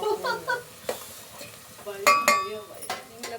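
Whole green chilies dropped into hot oil for a homemade biryani, giving a loud burst of crackling sizzle with sharp spitting pops, stirred through in short irregular bursts, close by with no talking.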